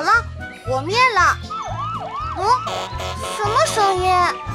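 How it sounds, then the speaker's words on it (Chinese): A cartoon fire engine siren wails in repeated rising and falling sweeps over a bouncy, rhythmic children's-song beat, loud and close, with animated character voices mixed in. "无畏的消防车高迪来了。"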